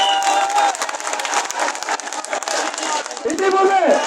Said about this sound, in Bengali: সবাই করতালির মাধ্যমে স্বাগত জানান।